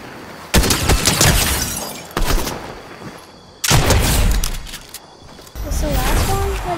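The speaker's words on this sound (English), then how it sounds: "They're throwing grenades at me!" Fortnite combat erupts in loud bursts of gunfire and explosive grenade blasts, several heavy bangs rolling one after another at close range, while voices talk over the chaos.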